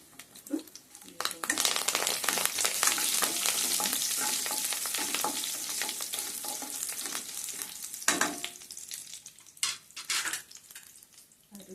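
Spinach greens fry in a pan with a loud, dense crackling sizzle that swells early and stays strong, with clinks of utensils stirring against the pan.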